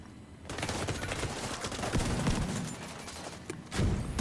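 A rapid, dense volley of automatic gunfire sounds in a PvP match of The Division 2, steady and close for several seconds with a short pause before another burst.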